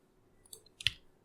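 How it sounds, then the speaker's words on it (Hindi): Computer mouse clicked while modeling in Maya software: a couple of faint small ticks followed by one crisp, close click in an otherwise quiet room. "शिफ्ट की प्रेस करने के बाद माउस का एक बार क्लिक कर दो"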